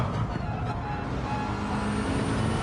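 A Gr.4 race car engine in Gran Turismo 7 holds a loud, steady drone throughout, revving out through a corner with no break in the sound.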